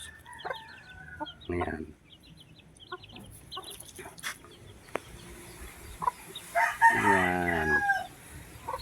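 Chicks and chickens roaming in a backyard coop, scattered soft clucks and cheeps followed by a louder drawn-out crow, with someone briefly speaking in between.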